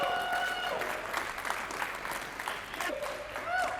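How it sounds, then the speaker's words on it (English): A summit audience applauds in a large hall: a steady, moderately loud burst of clapping lasting a few seconds, with some feedback-like tones ringing over it. "Applause for Dreamer."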